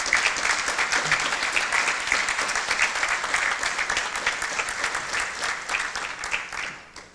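A crowd at a marketing talk applauds the event's partners with thick, continuous clapping that stays strong for several seconds and then tapers off at the end.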